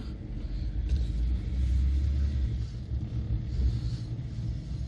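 A 2002 BMW 330d SE E46 diesel car pulls out of a driveway, its low engine rumble steady and close throughout without speech.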